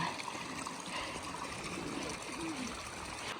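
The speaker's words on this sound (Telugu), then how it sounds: "చూడండి వాటర్ ఫాల్ ఎంత బాగా పడుతుంది" Waterfall at the Grey Mare's Tail nature reserve in Scotland, a steady broadband rush of falling water heard from a distance, continuous and fairly faint, with wind noise and no clear talking.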